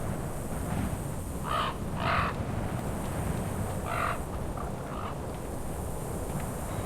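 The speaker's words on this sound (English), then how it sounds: "the only company I have are these really creepy crow sounds that I play occasionally" Eerie crow caws from the World of Warcraft video game, heard in the Razorfen Downs area: a few short, hoarse calls in pairs at moderate distance over a constant windy ambient hiss.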